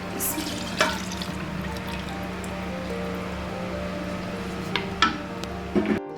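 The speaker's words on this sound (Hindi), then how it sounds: "अब जिस ऑयल में हमने करेले फ्राई किए थे, वही ऑयल में जो है मटन में डालूँगी और इसको भूनूँगी।" Mutton sizzles steadily as it is browned in the same oil used earlier to fry bitter gourd for karela gosht, giving a continuous near frying hiss with a few sharp clatters of stirring.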